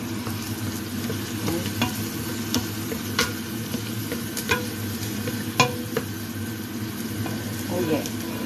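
Rice cooking in butter with chicken stock in a pan, a soft continuous sizzle broken by repeated sharp scraping taps from stirring, faint and close, with a voice talking intermittently.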